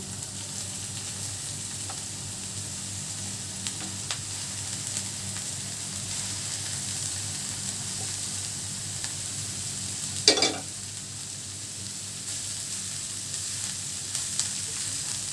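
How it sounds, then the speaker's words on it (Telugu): Kerala-style banana flower thoran sizzles steadily in a pan, a continuous frying hiss with one brief clatter of the spoon partway through. "బాగా మిక్స్ చేసుకొని మనము సిమ్లో పెట్టుకొని దీన్ని బాగా ఉడికించుకున్నాము"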